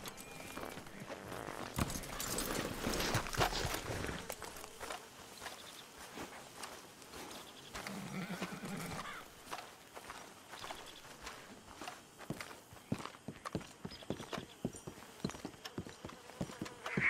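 Video game horses' hooves clip-clopping on the ground at a walking pace, with rustling and light footsteps nearby; the hoofbeats grow sharper and more distinct toward the end.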